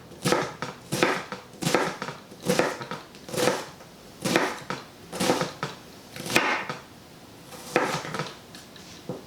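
A knife cuts shallow slits into vegan, gluten-free samosa dough, about ten crisp, evenly spaced taps against a board, close and clear with no talking.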